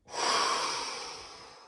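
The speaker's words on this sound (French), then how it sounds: "Et soufflez fort" A single forceful exhalation during a sophrology breathing exercise, a close, breathy whoosh of air that swells quickly and then slowly tapers off as the lungs empty.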